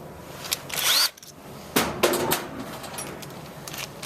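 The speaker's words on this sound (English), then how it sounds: "you'll want to drill your 4 holes" Power drill boring mounting holes for a chemical dispenser above a three-bin sink, heard as short separate bursts of whirring at moderate distance with quiet pauses between them.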